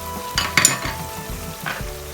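Chicken frying in a pan with ground black and white pepper, roasted cumin, salt and almond, cashew and chickpea powders: a steady sizzle with a couple of sharper scraping stir strokes near the start and another toward the end.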